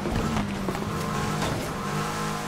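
Engines race in Need for Speed Heat, with a car roaring at high revs alongside tire noise and skidding, a loud, continuous burst of in-game driving sound.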